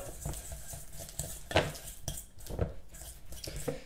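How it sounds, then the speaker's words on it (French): Softened butter worked into a creamy pomade with a spoon in a bowl for langues de chat biscuits, giving quiet, irregular scraping and tapping strokes against the bowl. "Est-ce que le son du beurre pommade du coup vous fait sourire"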